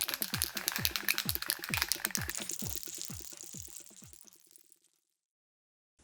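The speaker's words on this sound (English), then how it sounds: "Now I shake the can for 2 minutes." Fast, steady rattling of a shaken spray paint can with a ball clacking inside, loud at first and tapering off before stopping into silence.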